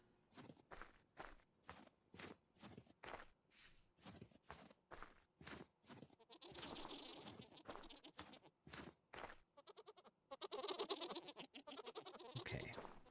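Footsteps crunch in a steady rhythm through the Vintage Story video game, then goats bleat loudly and nearby, several calls overlapping before the walking resumes.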